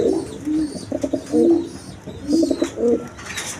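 Pair of Afsan Girizal pigeons give soft, throaty coos in two short bursts, close and clear with little else around.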